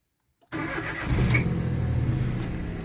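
A Peugeot 107 Urban's three-cylinder engine cranks briefly after a moment of silence, then catches and settles into a loud, steady idle with a low throbbing vibration, close up and with no voices.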